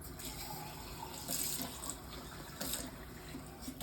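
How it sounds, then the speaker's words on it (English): Tap water runs steadily into a cup in a home kitchen while making Southern cornbread chicken dressing, a continuous close hiss and splash with slight surges and no talking. "I fill this up with a cup of water"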